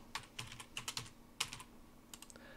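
Fingers typing on a computer keyboard, a quick irregular run of soft clicking keystrokes, close and quiet.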